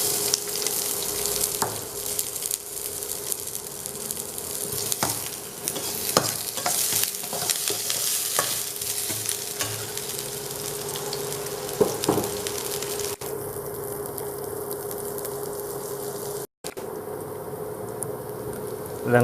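Onions with turmeric sizzle steadily in a hot pan after mustard seeds have popped, while a utensil stirs and scrapes against it at irregular intervals, close and fairly loud.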